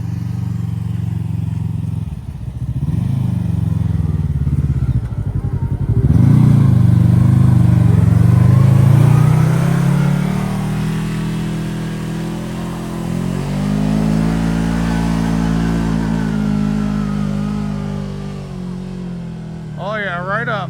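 CFMOTO UTV race buggy engine climbing a hill, a loud, sustained mid-pitched drone that swells as the throttle rises and holds steady, with people talking over it near the end.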